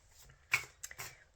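A few quick papery riffles and snaps of tarot cards being shuffled, close and fairly soft, in short uneven bursts.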